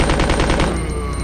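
Rapid automatic gunfire in the Resident Evil 2 video game as allies shoot at zombies, a loud, dense burst of close shots firing in quick succession without a break.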